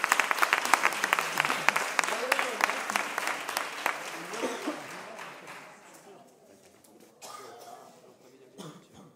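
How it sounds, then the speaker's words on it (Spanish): Audience applause at a carnival comparsas and chirigotas festival in Arjonilla: dense, loud clapping from a crowd for several seconds that thins and fades, followed by scattered claps, coughs and faint murmuring. "así que un aplauso fuerte para"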